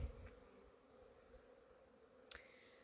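Honeybees buzz faintly on their first spring flight in February, a soft steady hum near an apiary. A single sharper click stands out briefly.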